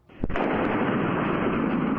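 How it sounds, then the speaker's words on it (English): A massive explosion at an industrial plant, heard in news footage: a sharp blast onset followed by a sustained, loud roaring rumble that fills the short clip, with no voices. "The explosion felt all the way across town."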